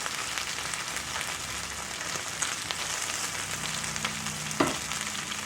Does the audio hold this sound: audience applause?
no